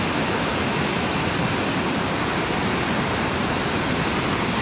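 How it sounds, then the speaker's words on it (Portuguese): Floodwater after heavy rain rushes past in a steady, dense roar, loud and unbroken with no voices. "Olha o barulho d'água."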